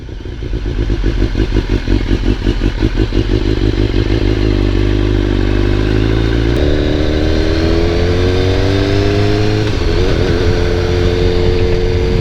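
A BMW S1000R sport motorcycle engine idles with a rapid throb, then revs up and down loudly and close by, with rising and falling pitch.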